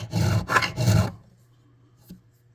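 Steel file rasping over the rounded top of freshly leveled guitar fret wire on a Yamaha FG410A acoustic, three close, steady strokes in quick succession, then near silence broken by a single light tap.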